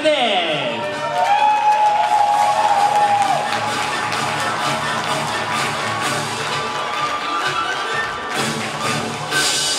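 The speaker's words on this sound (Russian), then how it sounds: "Мы аплодируем" Audience applause at an award ceremony, with steady clapping from a crowd continuing for several seconds at moderate loudness, with voices faintly mixed in.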